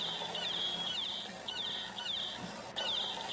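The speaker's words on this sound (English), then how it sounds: "Sounds like a bunch of chickens." A flock of chickens gives repeated high, chirpy clucking calls in short bursts, fairly close, over a steady outdoor background hiss in a remote spot.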